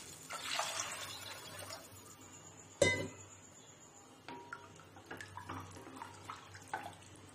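Water is poured into a pot of lemon rasam in a kitchen, a brief splashing pour followed by a sharp clatter and quieter handling noises.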